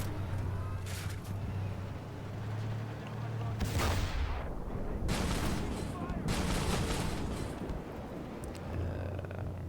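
Tank cannon fire in the armored combat video game Armored Warfare: several loud booming blasts with rumbling, crackling tails, spaced unevenly between stretches of engine hum.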